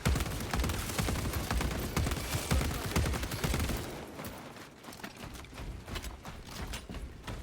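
Rapid, dense gunfire from a silenced bolt pistol in a Warhammer 40k video game, heard as a continuous clattering burst that eases off and then picks up again, with no speech.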